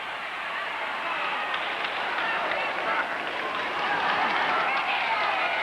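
Ringside crowd at a Los Angeles professional wrestling match gives steady, broad applause, a dense continuous patter of clapping that swells slightly toward the end, with commentary audible underneath.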